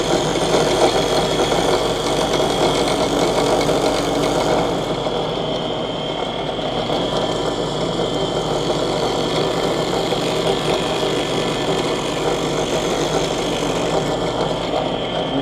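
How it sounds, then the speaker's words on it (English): A safety planer with spinning blades thinning an archtop guitar plate, giving a steady, loud machine whir with a high sustained tone that drops slightly partway through, no speech. "Now it's called a safety planer, but obviously it's got spinning blades."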